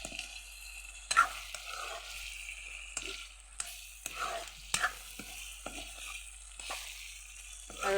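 Duck meat frying in oil with garlic paste, stirred in the pan: a soft continuous sizzle broken by irregular scraping and clattering stirs, close and moderately loud, with no voices.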